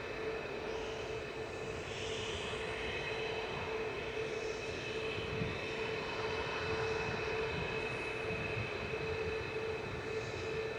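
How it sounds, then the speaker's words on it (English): An EasyJet airliner departs Manchester Airport for Naples, its engines making a sustained, steady roar with a fixed whining tone on top. The sound is moderately distant, even in level throughout, and no one talks. "EasyJet 2125 to Naples departing there."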